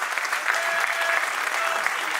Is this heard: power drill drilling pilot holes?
no